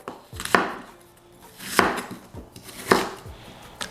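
A knife slices an apple around its core on a cutting board, with several distinct cuts that each end in a firm tap on the board, spaced about a second apart.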